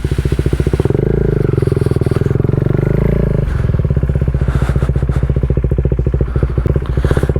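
A KTM 390 Duke single-cylinder motorcycle pulling away from a stop, its loud, close, rapid engine pulse climbing in pitch through the first few seconds, then settling into a steady, throbbing run.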